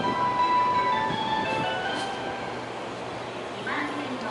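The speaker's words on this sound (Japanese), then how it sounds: "2番線の電車が発車します。" An electric train pulls away from platform 2 at a station, its motor hum and rolling wheel noise building and then fading at moderate volume, with a public announcement voice audible over it.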